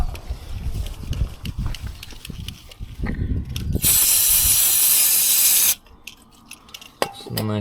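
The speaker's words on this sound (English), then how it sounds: "Some motherfucking brake cleaner." A spray can of brake cleaner hissing loudly in one close, continuous burst of about two seconds on a motorcycle during crash repair, with clinks and workshop handling noises before and after.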